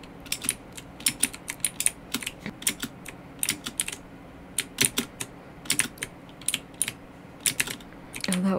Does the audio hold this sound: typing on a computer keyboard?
yes